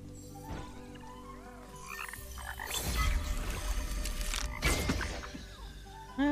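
Frogs croak repeatedly in the video game Kena: Bridge of Spirits, a dense chorus of near calls over steady ambient game music, with bursts of louder rustling and splashing effects in the middle.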